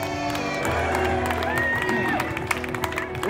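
A live audience at a San Francisco show erupts in loud cheering, clapping and whoops, steady throughout, with a few voices calling out in the din.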